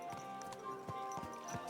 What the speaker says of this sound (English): Watch out with that horse!